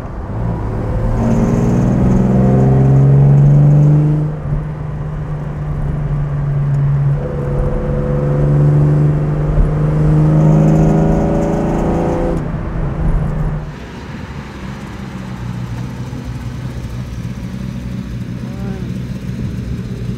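A 1966 Jaguar E-Type 3.8 Coupé runs while driving, its engine droning in loud steady tones that rise and fall with throttle, easing off partway through to a quieter cruising hum as someone talks over it.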